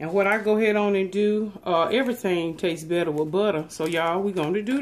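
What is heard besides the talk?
No everyday noise stands out behind the speech.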